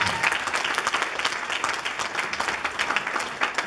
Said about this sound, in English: So give her a nice round of applause.